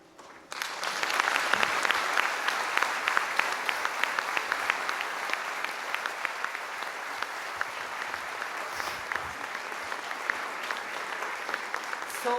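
Sustained audience applause fills a hall after a spoken-word poetry performance at a TEDx salon event, a dense steady clapping from a sizeable crowd that starts abruptly and carries on without pause for over ten seconds.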